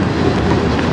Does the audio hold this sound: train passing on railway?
yes